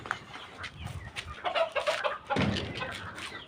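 Native country hens in a rural yard cluck in short uneven bursts, fairly close and moderately loud, with no talking.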